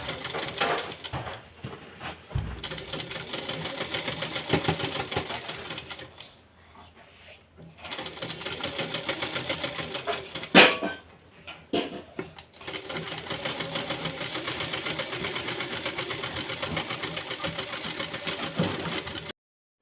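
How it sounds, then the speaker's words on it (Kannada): A sewing machine stitching a blouse runs in steady mechanical bursts, whirring continuously with a brief pause in the middle and a sharp click near the restart, close and fairly loud with no talking. "ನಾವು ಮೊದಲಿಗೆ ಸ್ಟಿಚ್ನ ಹಾಕ್ತಾ ಹೋಗಬೇಕು"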